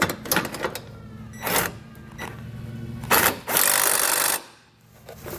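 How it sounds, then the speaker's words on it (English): Metal ratcheting and clicking as a bolt is tightened on a Roadmaster Direct-Connect base plate under a 2016 Mazda, in several close, loud bursts separated by short pauses. "while I'm doing that, we can tighten the bolt down"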